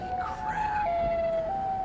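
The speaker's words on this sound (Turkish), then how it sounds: "Bak bak siren sesleri hiç susmuyor arkadaşlar." Sirens wailing, their pitch shifting in steps, heard at moderate distance over a rumbling background.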